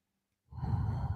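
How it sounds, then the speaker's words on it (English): A single slow, audible breath during a breathwork session: silence, then a long, close, airy exhale like a sigh that keeps going to the end. "breathe so you can hear your own breath. Slow inhales and slow exhales"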